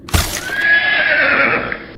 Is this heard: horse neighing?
yes